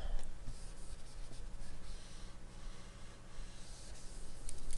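A board eraser rubs steadily across a math lecture board, giving a continuous, close scraping hiss that swells and fades with the strokes, with no talking.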